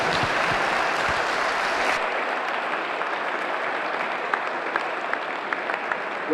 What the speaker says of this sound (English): Can I get a huge round of applause for the All-Ireland Senior Champion, Martina McMahon.